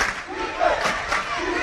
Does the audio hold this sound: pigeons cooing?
no